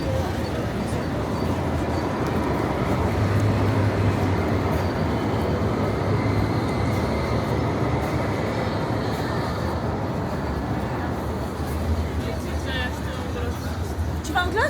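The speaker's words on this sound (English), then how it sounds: "I think that's this train station" Busy train station ambience in Luxembourg City, with a steady wash of rail and crowd noise, rumbling trains and distant voices throughout, people chatting nearby.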